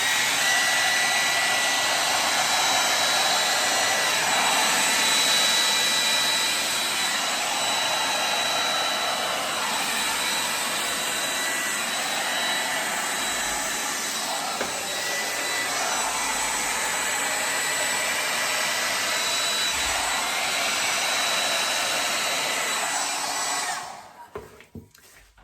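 A hair dryer blows steadily across a wet acrylic Dutch pour painting, a loud continuous whooshing roar held close for over twenty seconds before it cuts off abruptly near the end.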